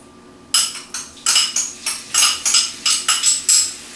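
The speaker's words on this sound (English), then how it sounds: "I'm going to add the onion." A metal utensil clinks and taps in a pan as onion goes into olive oil: about ten bright, close metallic hits in an uneven rhythm, with no talking.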